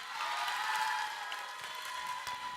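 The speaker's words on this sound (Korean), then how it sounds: "박수 한번 주세요, 여러분." Applause from a lecture audience at a speech contest, a steady wash of clapping hands that holds evenly and then eases slightly toward the end.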